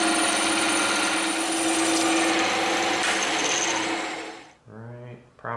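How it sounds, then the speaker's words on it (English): A bandsaw cuts through thick EVA foam with a loud, steady whining buzz that winds down near the end, followed by a brief voice. "because that's so thick, we're going to go over to the bandsaw and we're going to cut it out"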